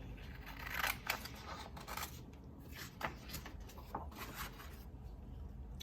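Scissors snipping a small piece of black paper, a few quiet crisp cuts against a low steady background hiss, faint and close.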